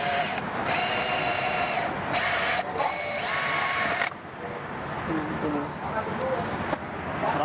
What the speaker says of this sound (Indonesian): Nah, ini proses bornya.